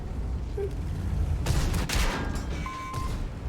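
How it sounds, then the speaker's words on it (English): Tank cannon fire in a video game involving an IS-7 heavy tank: a couple of loud, close booming shots in quick succession around the middle, over a low rumbling game background. "He knows where to shoot the IS-7."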